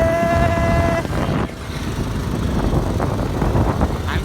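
Motorbikes from a local gang pass by as they come and go at a birthday gathering. Engine noise is loud and constant, with one passing machine and a brief tonal whine near the start.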